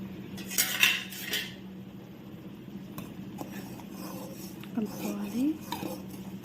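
Jowar gatka porridge is stirred in a pot with a metal spoon, giving a few clinks and scrapes against the metal over a faint low hum, the sounds soft and sporadic.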